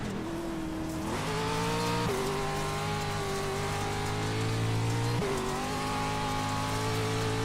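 NASCAR Xfinity Series stock cars racing at Talladega roar steadily in a loud, sustained engine drone, with pitch shifts as cars pass and close in, with no talk over it.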